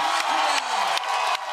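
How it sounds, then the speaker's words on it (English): A crowd at a flair bartending final roars and cheers continuously, loud and close, with whoops and shouts rising over a sustained wall of noise. "That crowd are going crazy."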